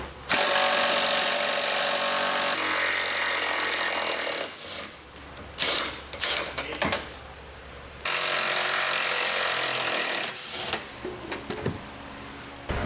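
Power tool, likely an impact wrench, removing a frame bolt with a 21 mm socket at the rear of a 2020 Ford Explorer during trailer hitch installation; loud sustained bursts of whirring, hammering rattle with short pauses and clanks between.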